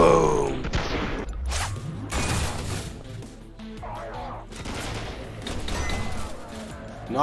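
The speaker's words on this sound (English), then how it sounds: "that shotgun kicks like a friggin' mule" Shotgun blasts in the VR game District Steel, several loud booming shots with crashing impacts spread through the moment, a voice briefly exclaiming between them.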